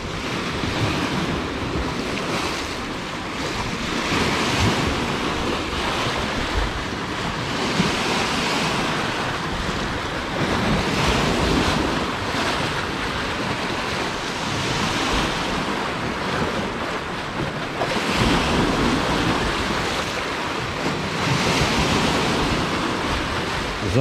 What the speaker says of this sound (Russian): Запах моря, шум волны.